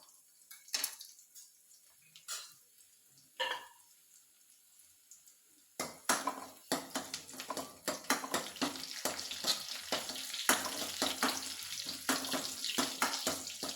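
Food fries in a pan in a village home kitchen, starting with a few scattered pops and clatters, then breaking into a steady, loud sizzle with dense crackling halfway through.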